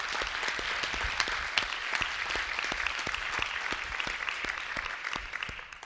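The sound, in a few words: audience applause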